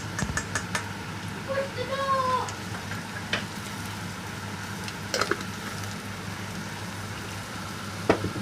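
Prawns frying in a pan for Goan prawn pickle make a soft, crackling sizzle with scattered clicks and stirring taps, plus a brief wavering cry early on.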